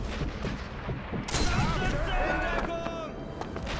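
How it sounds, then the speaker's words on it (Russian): Anti-aircraft guns in Sniper Elite V2 fire in dense, rapid bursts of booming shots, loud and continuous with overlapping blasts and game effects, while someone speaks over them. "Они стреляют очень часто"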